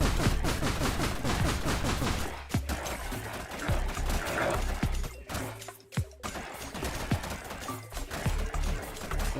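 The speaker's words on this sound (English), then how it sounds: "explosions." Rapid bursts of explosions pop off in the video game Forager, played on Nintendo Switch 2, as a dense, continuous crackle of overlapping blasts with a few heavier thumps, loud and busy throughout with no one talking.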